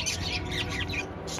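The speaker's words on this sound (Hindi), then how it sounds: "इन छोटी छोटी चिड़ियाओं की चहचहाहट" Small birds chirp at a roadside restaurant, a few quick high tweets rising over a steady low background hum, fairly close and moderately loud.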